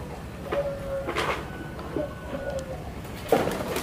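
A local spotted dove, kept as a pet, gives a few faint coos against a noisy background, with other soft knocks and rustles around it.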